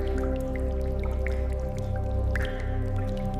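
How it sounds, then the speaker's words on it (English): Thick, dark fluid drips from a corpse's nose onto stone in an ancient Egyptian embalming workshop, with a few soft, scattered drops over a steady low droning background. "Thick, dark fluids drip from the nose onto the stone, leaving the skull hollow"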